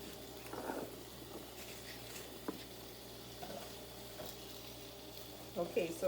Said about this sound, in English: the heat is loosening up the bacon